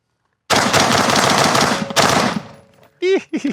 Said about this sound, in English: It's a nice shooting gun.